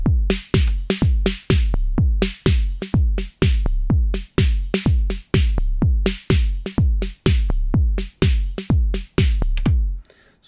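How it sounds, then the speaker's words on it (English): Steady, close, loud drum pattern from a Modor DR-2 drum machine, its sequencer randomly accenting some hits so a few strike harder within the repeating groove; no talking. "So now the sequencer is randomly adding accented hits."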